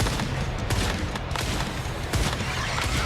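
Gunfire in the Once Human video game, with a sniper rifle and lighter guns, forms a loud, dense barrage of overlapping shots and bursts running continuously throughout.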